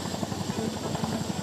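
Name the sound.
Indian Air Force Chinook twin-rotor helicopter night operation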